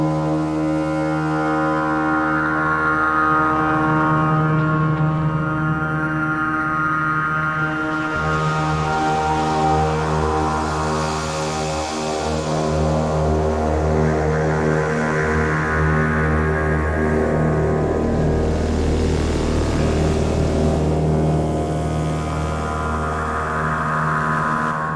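A washy, expansive reverb drone pad from iZotope VocalSynth 2 holds a sustained, harmonically rich tone. It swells and shifts slowly over about twenty-five seconds, steady and loud with no voices.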